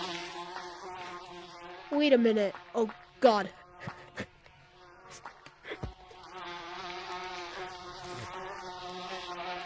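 Game bees swarming from a struck bee nest in the VR game Gorilla Tag give a continuous insect-like buzz throughout, with excited voices talking and exclaiming over it.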